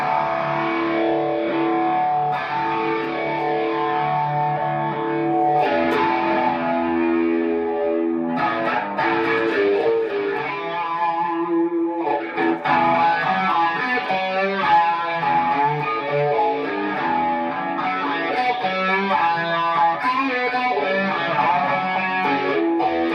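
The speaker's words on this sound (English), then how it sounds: "It's got the Beano into the Princitone, into the Phase 90 phaser, reverb, long delay" An electric guitar played through a Beano boost, Princetone amp, Phase 90 phaser, reverb and long delay rings out in a swirling, distorted phrase of sustained chords and notes, with delay trails and brief gaps between strummed passages, loud and continuous with no talking.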